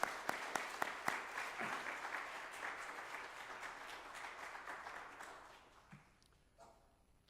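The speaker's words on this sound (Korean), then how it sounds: "우리 한번 찬양대를 크게 격려하면서 박수해 주시겠습니다" A church congregation at a revival meeting applauds its choir in a dense burst of clapping, with a few sharp near claps at the start; it thins out and fades over several seconds to near quiet.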